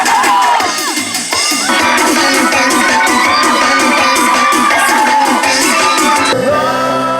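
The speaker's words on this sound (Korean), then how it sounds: "TV와 SNS를 통해 보던 유명인의 등장에 사람들 환호성이 끊이지 않는데요" A crowd cheers loudly and continuously at a celebrity's appearance at a street festival in Gyeongju, with whoops and shouts blending over amplified music, dense and close, ending with an abrupt drop.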